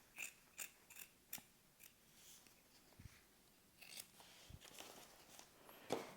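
Scissors trimming fabric while sewing: a series of close, crisp snips at an irregular pace, with a few soft handling clicks between cuts and no talking.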